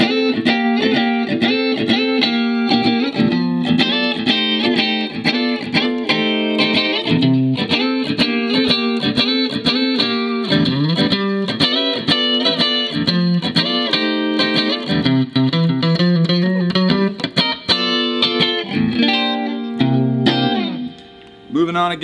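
A 1979 Fender Stratocaster electric guitar on its middle single-coil pickup alone, played continuously with a rapid run of plucked notes and chords, loud and close with effects and reverb, no talking.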